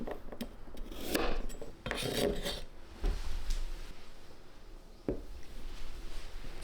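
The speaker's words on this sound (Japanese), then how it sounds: "人参は皮を切った後、乱切りにて形を揃えます。" A knife chops peeled carrots into irregular chunks on a cutting board, with a few close, scraping cuts and knocks spaced out at a relaxed pace in a quiet kitchen.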